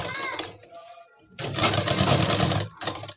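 A sewing machine stitches a pant waistband in rapid, loud mechanical bursts separated by a short pause, with a person speaking briefly at the start.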